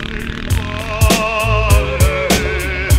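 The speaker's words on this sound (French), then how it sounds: "Donc là on fait le passage en sous-régime, c'est parti." A motocross motorcycle engine lugs at low revs, its deep drone broken every half second or so by heavy chugging pulses, close and loud, with no talking.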